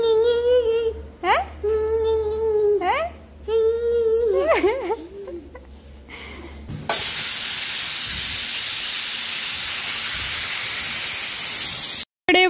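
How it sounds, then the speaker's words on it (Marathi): A pressure cooker cooks dal and rice. Wavering tonal sounds come first, then a loud, sustained rush of hissing steam takes over for the last several seconds before stopping abruptly. "वरण भाताचा कुकर होतोय"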